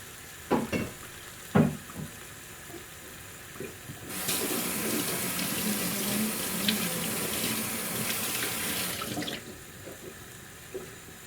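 Water poured from a rinsed oyster-sauce bottle into a pan of stir-fried mixed vegetables, a steady splashing pour of about five seconds after a few light clinks, then quiet.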